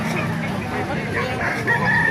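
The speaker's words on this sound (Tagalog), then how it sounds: "Dahil po mga manok" A rooster crows amid a busy background of other chickens and general noise at a market in Baliuag, fairly close and loud.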